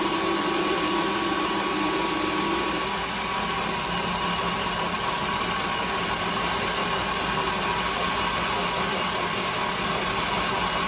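A machine cutting metal for a chuck key runs with its motor under heavy load, giving a continuous close mechanical whine and grinding hum at a steady level, with no talk.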